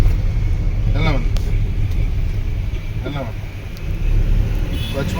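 Car engine during a driving lesson, a loud continuous low rumble that rises slightly toward the end, with an instructor talking over it.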